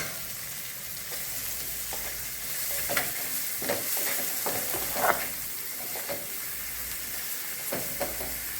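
Tomatoes sizzle in a hot pan for a green pea chutney while a spoon stirs them, giving an even frying hiss marked by scattered scraping clicks, near and steady, with no voices.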